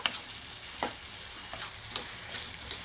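Masala is stirred and mixed in a frying pan, with a faint steady sizzle broken by several soft scraping strokes of a spoon at irregular intervals, close and quiet with no voices.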